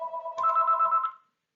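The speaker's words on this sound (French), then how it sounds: "Ah, mon téléphone. Que ça me stresse." A phone ringtone plays an electronic warbling tone, steady and clear for about a second before cutting off into silence.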